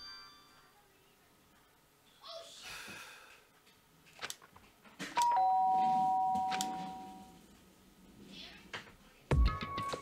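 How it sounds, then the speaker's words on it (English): A doorbell rings in the visual novel Danganronpa, a clear electronic chime tone around the middle of the clip, set among soft game sounds and brief breathy effects. "did I hear the doorbell?"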